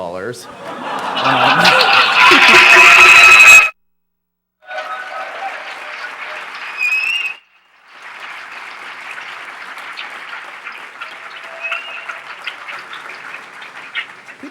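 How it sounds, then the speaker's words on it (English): An audience at a hacker conference keynote bursts into loud applause with chuckles mixed in, breaks off abruptly, then resumes as a softer, sustained round of clapping with occasional laughs. "People always applaud for that"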